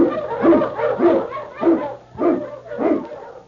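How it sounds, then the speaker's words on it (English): An Eskimo husky lead sled dog barks five or six times in a steady, close, loud rhythm against a low background hum. "King, the swiftest, strongest of Eskimo lead dogs, blazes the trail through storm and snow for Sergeant Preston"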